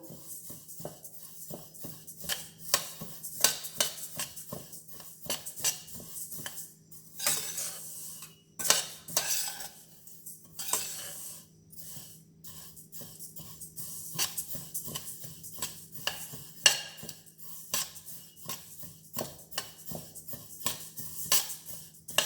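Black sesame seeds roasting in a pan for laddus, giving a steady run of faint, scattered crackles and ticks with occasional clinks of a spoon against the pan, with no talking.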